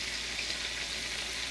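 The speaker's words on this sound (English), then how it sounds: "Mama always had a fork out when she was frying chicken" Buttermilk-battered chicken frying in a pan gives off a steady, close sizzle of hot oil, even and unbroken with no voices.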